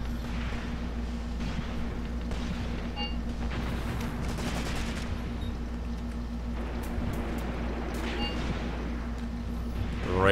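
Gunfire rolls across a battlefield in the WWII tactics game Graviteam Tactics Mius Front. Scattered shots and bursts pop over a constant low rumble, some near and others distant.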